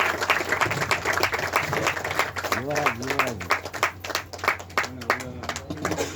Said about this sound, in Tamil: அவருக்காக ஒரு பலத்த கரகோஷங்கள் நம்ம வந்து கொடுத்துடலாம்